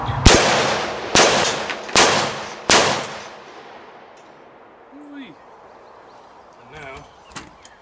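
Four loud, close gunshots from a CMMG Resolute 5.56 rifle fired outdoors at a steady, deliberate pace, each followed by a brief echo, then quiet with faint movement noises.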